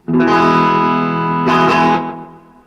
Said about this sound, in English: So this is my clean tone.